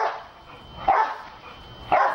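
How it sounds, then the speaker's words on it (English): A dog barks in rhythm while bouncing on a trampoline, two sharp, loud barks about a second apart over quiet background. "Barking to the beat of his own jumping, and he seems to launch into a new round on command."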